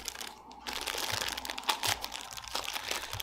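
A small package of anti-seize is unwrapped close by, giving a steady run of crinkling plastic with a few sharper crunches, heard alone with no talk.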